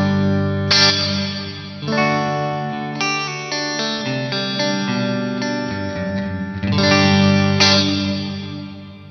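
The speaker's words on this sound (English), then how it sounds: "This is what your guitar would sound like in a concrete tunnel somewhere in the UK." Electric guitar through a Poly Effects Beebo pedal modelling the reverb of a concrete tunnel: sustained chords and picked notes, loud and washed in long echoing ambience with chorus-like shimmer, and no voices.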